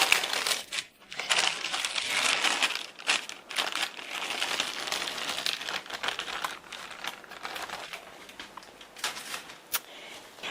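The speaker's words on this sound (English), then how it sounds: "Take the parchment off." Parchment paper peeled away from a freshly baked, still-hot meringue roll cake, giving close, continuous crinkling and rustling with brief crackly bursts across the whole stretch, no talking.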